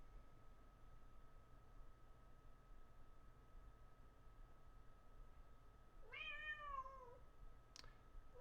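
A pet cat lets out a single drawn-out meow, followed by a brief faint chirp, against a quiet room with a steady low hum.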